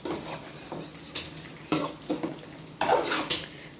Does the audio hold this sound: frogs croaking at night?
no